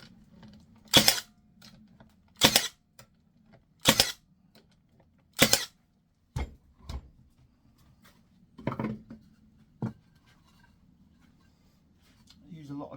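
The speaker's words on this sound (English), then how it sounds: "I've cut my pallet strips down to sizes, and I'm gluing and brad nailing them together now" A brad nailer fires into glued pallet strips in a series of sharp, loud snaps. Four evenly spaced shots come first, then a few softer, irregular ones, with near-silence in between.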